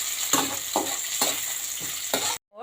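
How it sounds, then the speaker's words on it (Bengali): Chopped shiuli (night-jasmine) leaves fry in hot oil over a very low flame, giving a steady hiss broken by repeated scrapes and stirs at a loose rhythm. The sizzle cuts off abruptly near the end. "গরম হয়ে গেছে, এবারে আমি পাতাগুলো দিয়ে দিলাম।"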